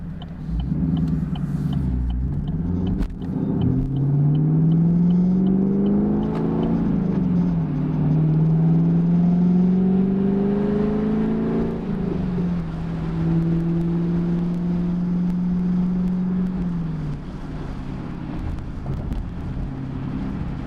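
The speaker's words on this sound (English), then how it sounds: "We're in 4th gear, now we're in 5th, going 40 mile an hour, about 1500 RPM" 6th gen Chevrolet Camaro with an MBRP axle-back exhaust cruising at about 40 mph near 1500 RPM, a steady low exhaust drone heard from inside, pitch climbing through gear changes and settling into a smooth hum.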